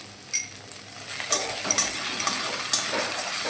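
A fish head fries in hot oil in a pan, giving a steady close sizzle with a few sharper spatters and light utensil clinks, without talk.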